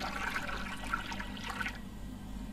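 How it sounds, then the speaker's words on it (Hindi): Kangen ionized water being poured in a short ionizer demonstration, a steady broadband splashing pour that stops abruptly partway through, with no talk over it. "इसलिए अब यहां डालते हैं कैंगन वाटर"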